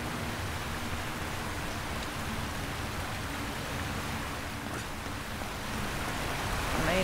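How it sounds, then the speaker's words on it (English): Constant hissing rainfall in the video game Uncharted: Drake's Fortune, even and unbroken, with a faint low hum underneath and a slight swell toward the end. "I made it rain."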